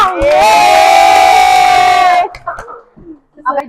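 A loud burst of podcast studio audience cheering and whooping that lasts about two seconds, then breaks off into scattered voices and shorter shouts.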